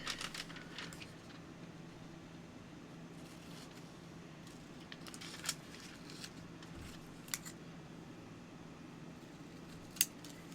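Scissors snip paper at a crafting table for a journal, a few quiet scattered cuts and a couple of sharper clicks from the blades locking, over a soft steady background hum.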